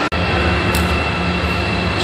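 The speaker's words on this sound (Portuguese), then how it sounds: "Chegando o metrô, agora vamos embarcar." São Paulo Yellow Line metro train arriving at an underground station, a steady close rumble and hum of the cars with a brief hiss partway through.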